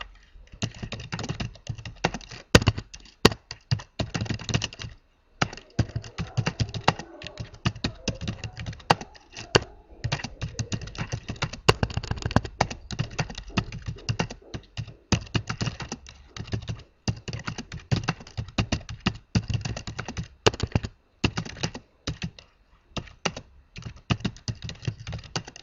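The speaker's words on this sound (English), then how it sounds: "I'm going to just quickly type in something that" Fast typing on a computer keyboard, with dense irregular key clicks in quick bursts and short pauses, close and fairly quiet.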